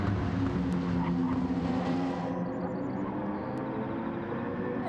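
Race cars in Gran Turismo 7 roaring along a track, a loud engine drone that drops in level partway through and settles into a lower, steadier hum.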